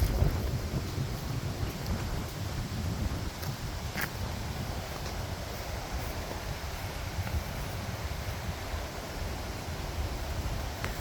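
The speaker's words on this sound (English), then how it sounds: "But it's quite windy now, eh?" Wind blows hard on a beach at Icacos in south Trinidad, buffeting the microphone with a steady, loud roar and low rumble, and no voices are heard.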